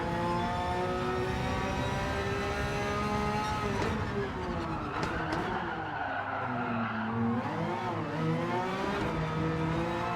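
Porsche race car in Gran Turismo 7 during a warm-up out lap, its engine revving loudly and continuously with pitch sweeping up and down through gear changes, tires briefly squealing midway, with no voices.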